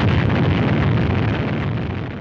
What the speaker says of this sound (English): After rising but a few feet, the three-stage 72-foot rocket loses its thrust.